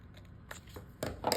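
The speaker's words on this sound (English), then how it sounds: "Get right on your line with your scissors." Scissors snip through paper along a marked line, with several short crisp cuts spaced through a brief, quiet moment, the last two close together.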